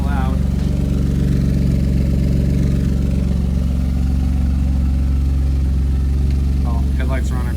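A race car engine fitted with double mufflers idles steadily and close, a deep, even rumble that stays at constant loudness throughout, with a person talking over it.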